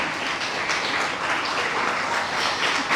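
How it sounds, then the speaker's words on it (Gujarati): School children in an audience clap together, a dense, steady patter of applause lasting a few seconds at moderate distance, with no voices over it. "એબી સ્કૂલના છોકરાઓ વધારે તાળીઓ વગાડે છે."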